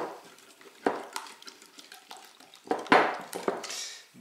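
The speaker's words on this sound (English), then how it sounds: "Give this a quick whisk." Crepe-like rosette batter being whisked in a bowl, light scattered clinks and splashy strokes in an irregular rhythm, fairly faint and close, with no talking.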